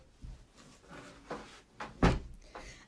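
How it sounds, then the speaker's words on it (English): A door is pushed shut in a home kitchen, a few soft knocks and shuffles followed by one firmer thud near the end, close and fairly quiet. "let's just close the door"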